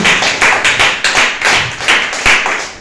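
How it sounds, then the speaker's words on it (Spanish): A church congregation claps loudly and steadily in unison, a dense rhythmic wash of handclaps filling the room with no voices above it. "Dale un fuerte aplauso al Señor, hermano"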